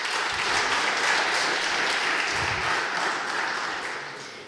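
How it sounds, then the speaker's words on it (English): At the AYPT 2024 physics tournament finals, an audience gives a round of applause, a full, steady sheet of many hands clapping that holds at an even level and tapers slightly at the end. "big round of applause"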